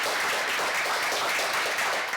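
Seated lecture audience at a talk on acting breaking into sustained applause, dense, even clapping from many hands filling the room for the whole stretch.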